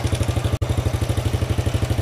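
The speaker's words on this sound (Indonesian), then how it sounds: "Kita geber juga aman, suaranya kemeracak." A Yamaha Supra Fit motorcycle engine, repaired after losing its spark-plug ignition, runs with a steady rapid chugging pulse and a brief dropout partway through, no voices.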